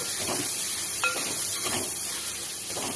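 Spices such as coriander and fennel powder sautéing in a pan for chicken biryani, a steady soft hiss and sizzle with a few light metallic clinks of stirring.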